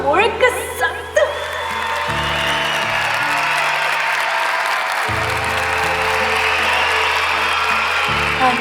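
Audience applause fills an auditorium during an award ceremony. It is steady and sustained throughout, with music and a few voices beneath it.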